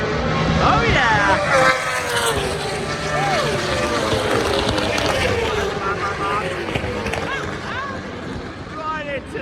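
Kawasaki ZX10 Superbikes race into a corner at Donington Park in British Superbike racing, loud engines whining and shifting in rising and falling sweeps as several bikes pass close, with a voice speaking over them.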